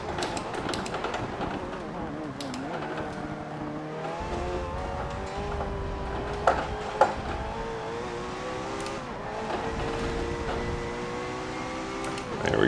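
A McLaren Senna race car engine in Forza Motorsport 7 at Monza, revving high through upshifts with rising and falling pitch, steady and close, with someone talking over it.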